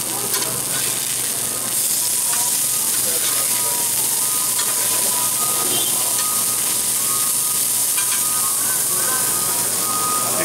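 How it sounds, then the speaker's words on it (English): Food from a farmers market bag fries in cheap oil, sizzling loudly and continuously up close with a dense, crackling hiss and no talk. "See, it's starting to cook up very nice."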